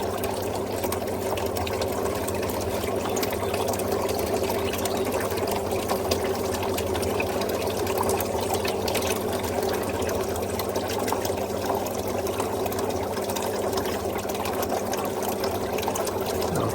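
Water bubbling and pouring steadily into a koi grow-on tank, a continuous dense wash with a low pump-like hum underneath, constant and fairly close with no voices.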